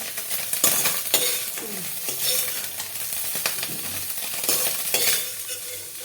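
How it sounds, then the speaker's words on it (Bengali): Small mourala fish fry in hot oil in a wok, a steady close sizzle broken by repeated scrapes and clinks of a spatula stirring them, with no talking. "মাছগুলো ভালো করে ভেজে নিচ্ছি নেড়ে চেড়ে"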